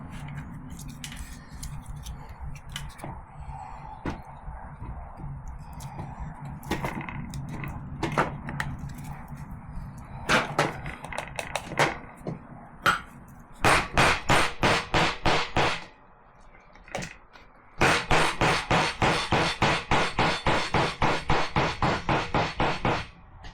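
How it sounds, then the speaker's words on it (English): Corner chisel strikes squaring timber frame corners ring out as sharp hammered blows, at first sparse and uneven, then fast steady runs of close, loud knocks with a brief pause between. "I need to remember to square up the corners with the corner chisel before cutting the shoulder in"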